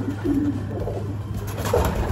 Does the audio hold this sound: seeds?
no